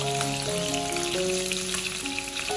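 Grass carp chunks frying in oil in a wok, a close, even sizzle with fine popping throughout, accompanied by quiet background music and no voices.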